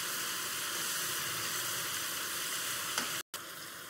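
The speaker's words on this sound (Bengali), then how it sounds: "মাছটা আমি ভালো করে উল্টে পাল্টে লাল লাল করে ভেজে নিয়েছি" Small pieces of katla fish fry in hot oil for a Bengali doi katla curry, giving a steady, dense sizzle close to the pan, briefly cut by a moment of silence near the end.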